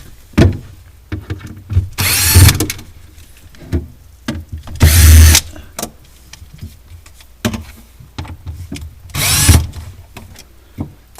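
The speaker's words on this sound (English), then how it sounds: "the first thing we're going to do is going to take out these screws, this cover" A power drill backs screws out of the cover panel on a Sub-Zero 700BFI-2 refrigerator, three loud whirring bursts about two seconds apart with clicks and handling noise between them and no talk.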